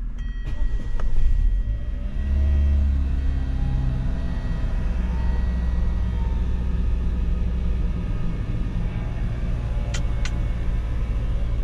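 A Pontiac G8 GT idles steadily while warming up, a low, even engine rumble that holds close and constant throughout with no voices.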